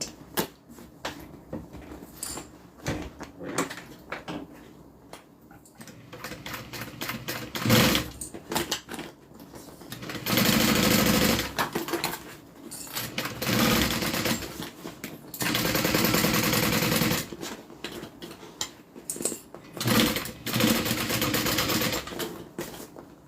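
A sewing machine stitches and turns fabric on a custom order, its rapid mechanical whirring coming in repeated bursts of varying length with short pauses between them, close and fairly loud.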